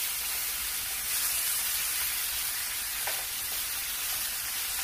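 Pork chops sear in a hot pan after being flipped, a loud, even, hissing sizzle that holds steady throughout with a faint knock near the end.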